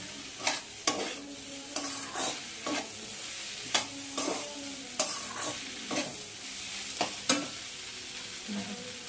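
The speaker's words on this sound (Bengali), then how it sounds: "অল্প অল্প ভাবে নেড়ে অল্প অল্প করে জল দিয়ে চাপা দিয়ে দেবো" Vegetables for a vegetarian roll are stirred in a pan with a spatula, sizzling as a little water is added: repeated sharp scrapes at an irregular rhythm over a steady frying hiss, close and moderately loud.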